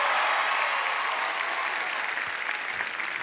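A studio audience at a late-night TV talk show applauds and cheers for a comedian, a dense, steady roar of clapping that stays loud and continuous throughout.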